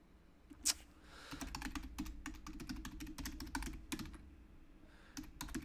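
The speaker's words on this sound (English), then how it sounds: "where am I typing that it's not showing up?" Quick, irregular keystrokes clatter on a computer keyboard, with bursts of rapid typing, brief pauses and one sharper click near the start, close and clear with no talking.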